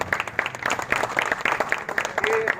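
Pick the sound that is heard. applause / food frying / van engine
applause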